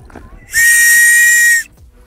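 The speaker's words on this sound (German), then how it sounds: "Dann haben wir hier oben auch die Pfeife." The safety whistle on a life jacket gives a single sharp, piercing blast lasting about a second, loud and close, with quiet before and after.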